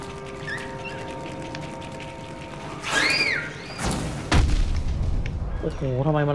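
Hollow Knight game sound effects with a deep booming explosion and rumbling aftermath, mixed with chirpy electronic tones and whooshing sweeps, loud and close.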